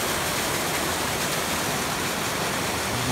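Loud, constant rushing water roars without a break through pipes along the Appalachian Trail, a dense wash of noise close at hand.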